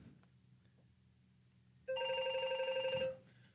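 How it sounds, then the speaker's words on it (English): A telephone rings once, a loud electronic trilling burst that starts suddenly after quiet room tone and lasts about a second before cutting off. "Bloody phone again."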